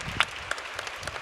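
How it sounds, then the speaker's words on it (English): Brief, thin applause from a small audience at a fashion sustainability panel event, a scattering of soft claps that fades within about a second. "Yes, round of applause."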